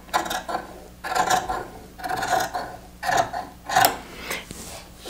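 Scissors trimming excess lace off sewn fabric for vintage-style underwear, a series of about six crisp, rasping snips in an uneven rhythm, close and alone.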